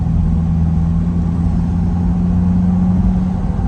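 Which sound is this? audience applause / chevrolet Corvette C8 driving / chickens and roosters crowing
chevrolet Corvette C8 driving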